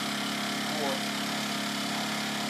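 A KIPOR 770 portable generator, a light suitcase-style unit, runs with a steady, even engine drone under a man's speech.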